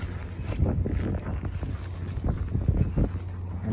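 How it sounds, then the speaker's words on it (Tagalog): Strong wind howls through a winter blizzard in the snow, a loud, continuous roaring rush with gusty swells and buffeting against the microphone, and no voices. "Grabe, lakas ng hangin guys."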